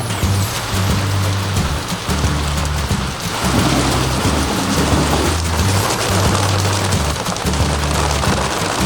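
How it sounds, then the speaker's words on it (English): Steady rain falling across a garden, a dense even patter with low thunder-like rumbling underneath, continuous and fairly loud throughout with no voices. "Oh my gosh, it's beginning to rain."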